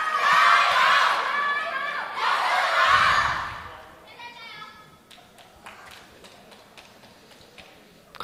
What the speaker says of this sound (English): Crowd really getting behind her.